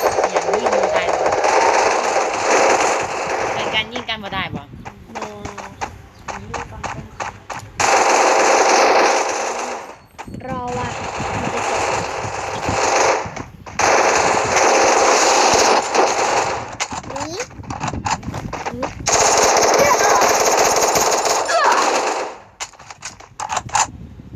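Rapid automatic gunfire from a shooter video game fires in loud, dense bursts separated by brief pauses, with voices murmuring faintly beneath it.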